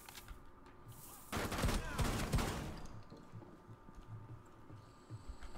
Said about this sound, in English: Shoot through the wall.